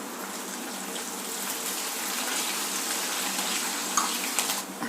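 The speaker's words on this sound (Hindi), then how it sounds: "हरी मिर्च और लहसुन अच्छे से फ्राई हो गए हैं।" Chopped green chillies and garlic fry in hot oil in a pan for roasted poha namkeen, a steady close sizzle that holds without pause.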